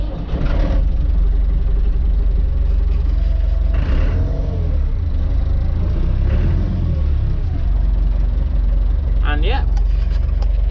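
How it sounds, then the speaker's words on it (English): A Massey Ferguson 390T tractor fitted with front weights runs with a steady low diesel rumble, close and continuous, while someone speaks briefly over it. "We'll just start it up so you can hear it running."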